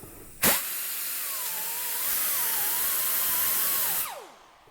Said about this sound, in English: This is the green, really abrasive pad. It's very aggressive.